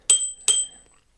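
The bell on an iScooter i8 electric scooter rings twice in quick succession, two bright metallic dings, close and clear, each ringing out briefly into silence.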